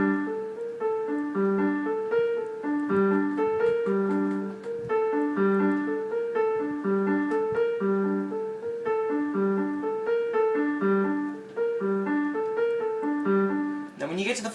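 A solo piano plays a repeating arpeggiated motif, clear and close, in a steady looping pattern that cuts off with a brief noise at the end.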